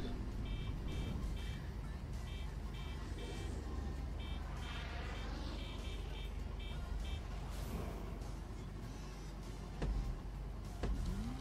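Car engine and road noise in GTA, a steady loud drone with shifting pitch, intermittent electronic beeps and brief thumps as the vehicle is driven.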